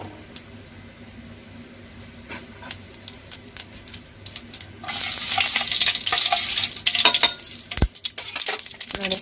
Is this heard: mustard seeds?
yes